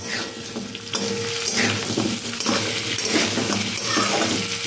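Eggs stirred as they fry in oil in a pan, a steady close sizzle and crackle running throughout with soft scraping from the stirring, no voices.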